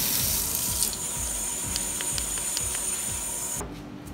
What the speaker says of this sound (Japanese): 洗って炊きます。